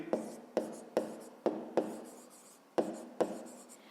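A pen writing on paper while working a fifth-grade maths division problem, with a series of close scratching strokes, each starting with a sharp tap and then a trailing scrawl, steady and unaccompanied by speech.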